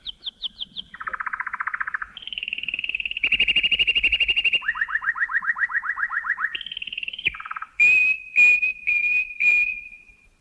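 A sequence of bright whistled bird-like calls from the bird song in Respighi's Pines of Rome: rapid trills, sustained warbling tones, and a few short repeated chirps near the end, clear and close with no talking.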